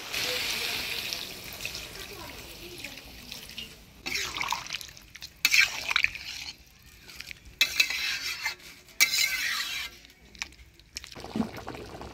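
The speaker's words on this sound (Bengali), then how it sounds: "এবার ঝোল দিয়ে দিই।" Liquid sloshes and splashes into a pan of winter vegetable and lentil-nugget curry, followed by bursts of sizzling and stirring up close, with a voice now and then.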